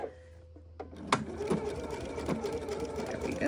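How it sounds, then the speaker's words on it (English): A home sewing machine backstitches and then stitches along a seam in a steady mechanical whir, rising after a quiet start with a few sharp clicks, running continuously and close by. "I'm going to backstitch, and I'm going to follow the seam allowance that is specified in the pattern"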